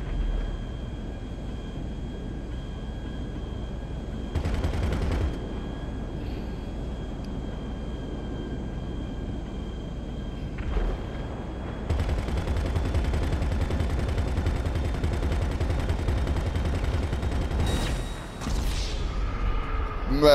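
Rapid bursts of automatic gunfire in GTA 5 Online as players shoot at air defenses during a Doomsday heist setup, loud and sustained in stretches with short gaps, alongside a steady droning aircraft hum.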